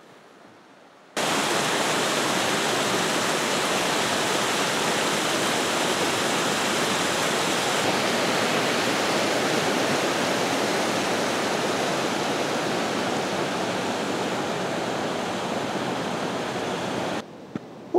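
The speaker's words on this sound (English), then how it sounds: "Let's get away from the noise of the spring," Spring water rushes loudly and steadily at the source of a very short river, a dense close roar that cuts in abruptly and holds without pause.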